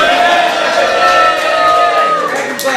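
A crowd at a startup night keeps cheering and whooping in a loud, steady wash of voices that fades slightly toward the end.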